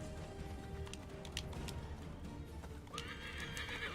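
Horse hooves clip-clop at a gallop with a whinnying neigh rising near the end, from Assassin's Creed III Remastered on PC, steady and close against game ambience.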